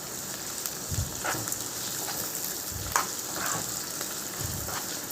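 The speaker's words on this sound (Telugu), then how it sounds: "ఆనియన్స్ కొంచెం ఫ్రై అయ్యాక ఈ పచ్చివాసన పోయేదాకా ఫ్రై చేసుకోవాలి ఫ్రెండ్స్." Onions frying with ginger-onion paste make a steady, moderate sizzle, up close, with a few soft stirring knocks and pops over the constant hiss, no voices.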